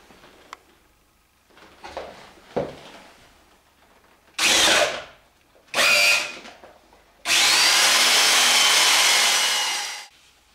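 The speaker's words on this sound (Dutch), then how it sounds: "Gat geboord" Power drill boring a hole while building a DIY graveyard statue: after some handling clatter, two short loud whirring bursts, then a longer sustained high drilling run of about three seconds, close by.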